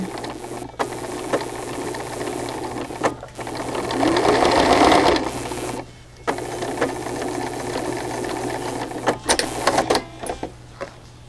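A sewing machine stitches folded-over fabric in several short bursts of rapid mechanical chatter, with brief pauses between runs and one longer, louder stretch in the middle.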